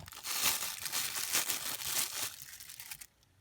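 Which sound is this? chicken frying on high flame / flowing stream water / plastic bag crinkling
plastic bag crinkling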